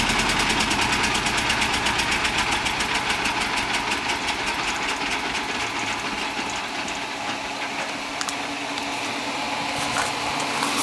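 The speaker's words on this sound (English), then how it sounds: "as you can hear, the fans are still running and will continue until the temperature of the enclosure is down to something safe" Cooling fans inside an S1100 generator enclosure keep running after shutdown, giving a steady, loud broadband whir with a low rumbling hum that fades slightly toward the end, with no talking.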